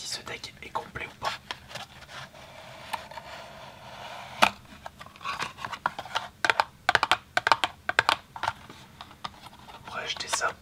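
A Magic: The Gathering deck package being opened: crinkly plastic and cardboard rustling, tapping and scratching, close and fairly quiet, in irregular bursts with soft handling noises between.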